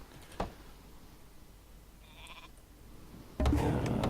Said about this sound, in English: So now we can grab the 2 sheep going there, and we can grab another one.